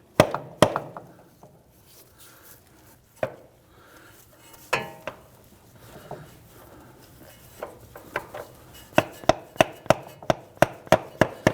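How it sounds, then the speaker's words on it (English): Sharp metallic taps ring out as a CV axle is knocked into the transmission of a Ford Taurus, scattered at first and then a quick regular series of close, crisp strikes near the end. "You can just tap that axle and you can see and feel that it's seated right up against that transmission."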